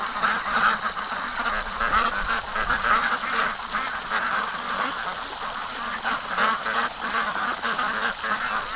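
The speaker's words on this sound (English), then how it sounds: "More and more ducks, huh?" A crowd of ducks quacking and honking busily together, a dense, continuous chatter of overlapping calls close by, with faint human sounds mixed underneath.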